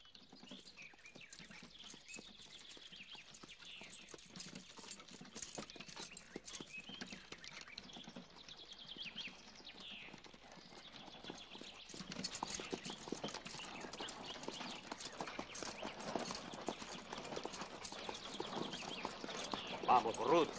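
Horse hooves clip-clop steadily on the ground along with harness, a dense running patter that grows louder partway through, while birds chirp and people talk.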